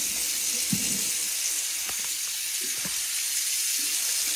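Water gushes steadily from a tap, a constant broadband hiss with a few faint clicks and knocks beneath it, close and fairly loud.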